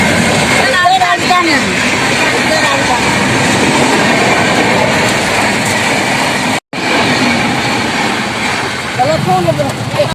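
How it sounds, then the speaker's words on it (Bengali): A train rolls past in heavy rain with a loud rumble and clatter of wheels on track, joined by faint squeals, while people talk nearby under the downpour. "ট্রেনটা আসছে।"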